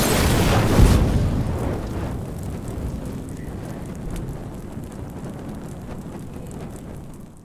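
An explosion goes off in The Last of Us Remastered, a loud boom at the start that rolls into a long rumbling, rain-like decay fading over several seconds, with no voices.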